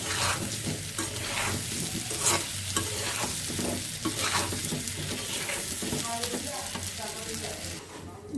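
Olive pickle cooking with sugar in a pan, stirred continuously so that a steady sizzle mixes with rhythmic scraping of the spoon against the pan, close and fairly loud.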